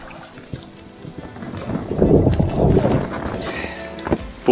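Canoes being dragged ashore onto a lakeside island in Finland, a scraping, rumbling shuffle of hulls against ground and water that swells in the middle and fades, with wind buffeting the microphone throughout.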